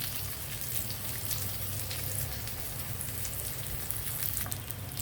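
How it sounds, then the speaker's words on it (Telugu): Dried red chillies and curry leaves fry in hot oil in a pan that already holds onion, giving a steady, close hiss and crackle of sizzling with no voices. "ఎండుమిర్చి కరివేపాకు వేగుతున్నాయి కదా"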